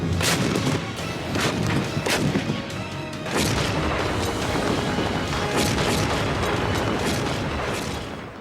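Artillery cannon fire, with repeated heavy booms landing in quick irregular bursts, loud and close, over a constant rumble and no speech.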